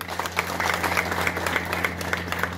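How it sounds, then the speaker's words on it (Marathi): Dense audience applause fills a room at a police station gathering, steady and fairly quiet, with a low mains hum underneath. "टाळ्या वाजवायच्या"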